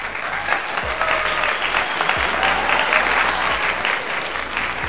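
Crowd applauding and cheering at a boxing match, a steady dense roar of clapping that stays loud throughout.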